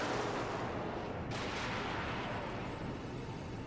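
An artillery cruiser fires in the game Dreadnought, a distant, muffled boom standing out briefly over a steady roar of background noise.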